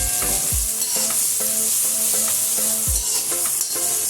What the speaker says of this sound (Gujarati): થોડું ધાણા જીરું પાવડર, થોડો ગરમ મસાલો અને થોડું લાલ મરચું પાવડર બધું ઉમેરી અને સારી રીતે મિક્સ કરી દઈશું